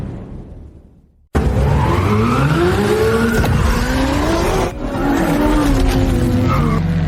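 An old drift car accelerates hard through a drift race. After a brief quiet gap, a loud engine roar rises steadily in pitch, mixed with tire squeal and a short dip in the middle before it surges on.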